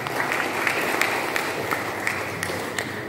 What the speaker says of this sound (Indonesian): Tepuk tangan untuk Pak Dirjen.